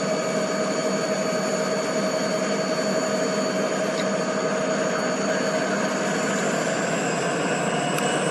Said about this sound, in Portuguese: Um total de 7 locomotivas. Todas acelerando.